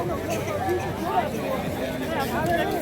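A dense crowd of pilgrims at Kedarnath temple, a steady murmuring babble of many distant voices with no single clear speaker.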